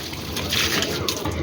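Water from a filled container pours onto garden plants, a steady broadband splashing and trickling stream that runs continuously and fairly loud throughout, with a brief surge midway.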